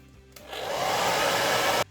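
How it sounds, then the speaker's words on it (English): A hair dryer switches on, rises into a steady loud rushing whoosh for about a second and a half, then cuts off abruptly. "I'm gonna dry this with a hairdryer."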